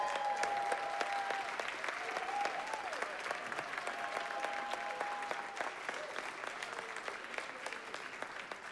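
A crowd gives sustained applause for a singer on stage, an even wash of clapping with a few whistles and shouts that holds for several seconds.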